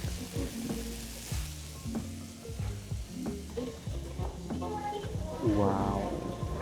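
Meat, including beef steak and hamburg, sizzles and crackles steadily on a grill at a Japanese morning market stall, with scraping and clattering utensils close by and a brief exclamation from someone near the end.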